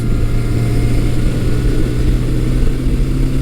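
A 1982 Suzuki GS750E motorcycle cruises on a test ride after carburetor, valve and valve cover gasket work, giving a loud, steady engine drone with constant wind rush and no talking.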